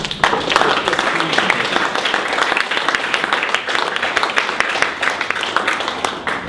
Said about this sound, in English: All right, well, let's give Jordan a round of applause.